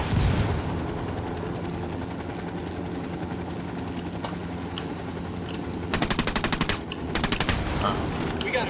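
Rapid automatic gunfire from the video game Ghost Recon Wildlands, crackling in short, dense bursts near the end over a steady rotor-like drone, following a quieter stretch of background rumble.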